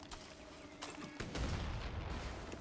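A bomb goes off in Far Cry 6, a loud booming blast with rumbling gunfire-like bursts that rolls on for a couple of seconds with no voices over it.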